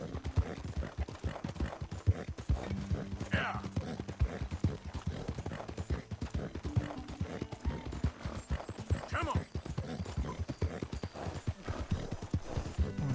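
Horse hooves clip-clop steadily in Red Dead Redemption 2 as a horse walks along, with someone talking over the rhythmic hoofbeats throughout.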